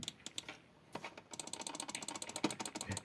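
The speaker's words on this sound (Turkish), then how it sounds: "Bu arada canlar mouse sesleri için kusura bakmayın." Rapid computer mouse and keyboard clicking during a Minecraft StoneBlock modpack session, a dense run of sharp close clicks, sparse at first then quick and steady, with no voice.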